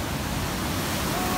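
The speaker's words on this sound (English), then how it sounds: "you hear the falls now, it's really strong." A strong waterfall at Devil's Pool roars close by as a dense, continuous wash of broadband rushing water, loud and unbroken throughout.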